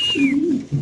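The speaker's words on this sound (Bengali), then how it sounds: "এটা মাদি কবুতর, এটা নর কবুতর" A single soft pigeon coo from a racing pigeon, a low gliding call near at hand, alone with no talk, with a faint high whistle-like tone fading early on.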